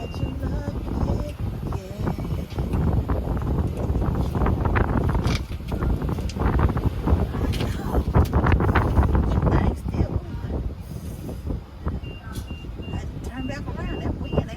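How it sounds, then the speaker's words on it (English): Strong wind rumbles and buffets steadily against the microphone for the whole stretch, with people talking throughout and faint intermittent beeps in the background. "That wind ain't no joke."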